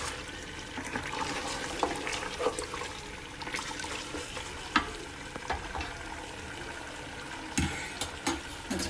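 Beef trotters sauté with spices in a pot, giving a soft, steady sizzle with intermittent scraping stirs and occasional clinks, fairly quiet and close, no talking.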